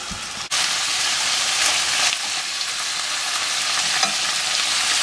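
Squirrel meat hits a hot pan and sets off a loud, steady sizzle that starts suddenly and carries on unbroken at close range, with no talking over it.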